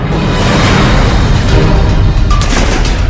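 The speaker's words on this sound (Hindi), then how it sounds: "तेज पटाखों की आवाज के जरिए हाथी को भगाने की कोशिश भी की गई" Loud bursts of firecrackers set off to scare away a wild elephant in a residential area, a dense rolling series of booms and cracks merging into continuous rumbling blasts, with sharper pops near the end.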